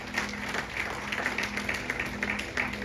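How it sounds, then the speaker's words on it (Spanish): A church congregation applauds loudly and steadily, the clapping spread across a crowd over a low, constant hum in the room. "denle un aplauso fuerte a Él"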